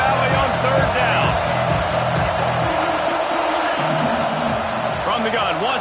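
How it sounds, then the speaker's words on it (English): A big stadium crowd at a college football game in Happy Valley roars steadily on third down, a dense distant wash of cheering under a play-by-play voice talking throughout. "Here comes the noise from this big crowd in Happy Valley on third down."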